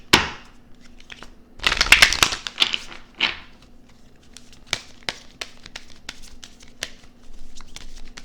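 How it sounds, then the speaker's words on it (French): Angel oracle cards being shuffled and drawn: close, crisp riffling and flicking in irregular bursts, loudest near the start, followed by scattered light card snaps and slides with no talking. "Je vais d'abord commencer ici par vous tirer une carte des anges."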